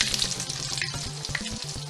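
Steady, crackling sizzle of hash browns frying in a hot pan, with a low rhythmic stirring or scraping underneath.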